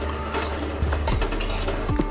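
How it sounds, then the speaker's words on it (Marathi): Spices roasting in a pan for raw mango pickle, stirred up from the bottom: close metallic scraping and clinking of a spoon on the pan, continuous and busy over a steady low hum. "छान असं आपल्याला मिक्स करून हलवून घ्यायचं आहे चांगलं तळापासून."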